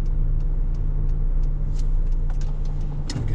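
Car tyres roll on tarmac near a roundabout, a steady broadband road hiss with engine hum and faint ticks, heard from inside a car in traffic.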